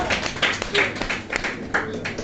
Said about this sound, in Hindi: तालियों की गूंज कम है